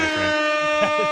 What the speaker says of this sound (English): Caden gets an air horn for that trade.